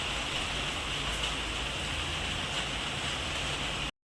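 Steady summer rain falling as a dense, even hiss of drops across the whole stretch, with no voices, cutting off abruptly near the end.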